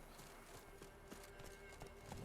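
Horse hooves clip-clopping in The Witcher 3, a soft, quiet rhythm of regular hoofbeats over steady game ambience, with no voices.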